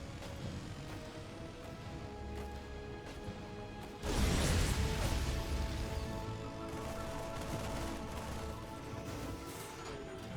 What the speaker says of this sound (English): Hellbat timing here from Clem. Flamethrowers ahoy, boys.